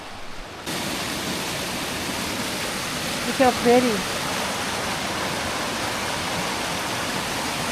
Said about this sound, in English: So far the whole walk has been along this creek.